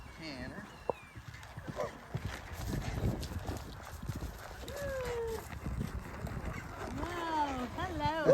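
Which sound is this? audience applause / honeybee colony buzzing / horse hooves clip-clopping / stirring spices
horse hooves clip-clopping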